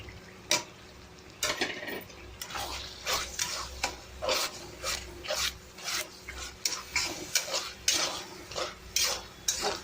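Masala of ground paste with red chili powder, turmeric and salt fries in oil for fish curry while a spoon scrapes and stirs the pan, giving repeated close, rhythmic scraping strokes over a low sizzle, with no talking.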